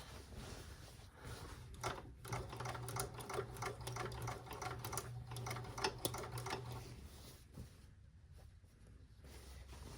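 A sewing machine stitches drapery fabric in a workroom, running as a steady quiet mechanical hum with rapid needle clatter for several seconds before slowing and stopping, with no talk.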